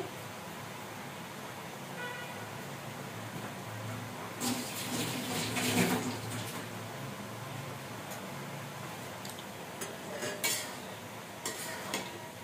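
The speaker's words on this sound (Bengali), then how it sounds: "শাকগুলো এবার আমি একটু নেড়ে দেবো, নেড়ে উল্টিয়ে দেবো" Salted greens are stirred and turned in a cooking pot, with clattering metal-on-pot scrapes clustered in the middle and a few more toward the end over a low background hum.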